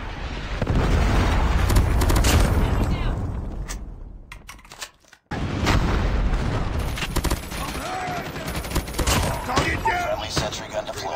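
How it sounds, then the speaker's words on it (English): A loud Call of Duty predator missile strike: dense booming explosions and rapid fire, a brief drop in the middle, then chaotic blasts and gunfire rumbling on to the end. "Predator missile inbound."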